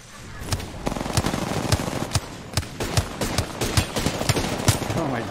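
Video game shooter gunfire: rapid bursts of close, loud shots in an irregular rhythm, with short pauses between volleys, continuing for several seconds.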